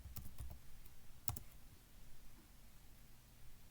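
A handful of quick keystrokes on a computer keyboard, soft and close in a quiet room, typing out office.com in a short burst and then stopping.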